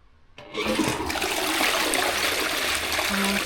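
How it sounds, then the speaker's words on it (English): A household toilet fitted with a Duck fresh disc is flushed, giving a loud close rush of water that starts abruptly after a brief quiet moment and keeps gushing and swirling steadily. "Flush it."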